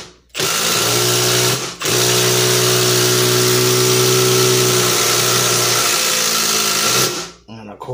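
A Milwaukee impact driver drives a screw in two loud, close bursts, a short rattling burst and then a longer sustained whirring hammer of about five seconds, ending abruptly.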